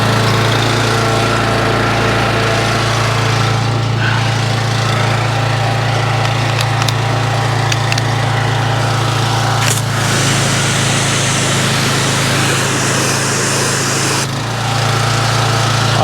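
A pressure washer fitted with a nozzle runs continuously during a hookup test, its motor giving a loud steady drone with a low hum and spray hiss, a brief dip near the end.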